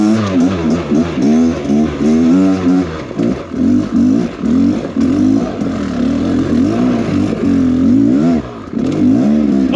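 A Beta X Trainer dirt bike engine revs on a rough single-track trail, loud and close. The pitch rises and falls again and again as the throttle is blipped, with some mechanical clatter.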